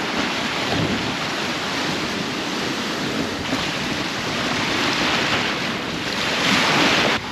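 Ocean surf breaks continuously on a remote Western Australian beach at Shelter Bay, Steep Point, a loud steady roar of waves mixed with gusty wind buffeting the microphone, with no voices.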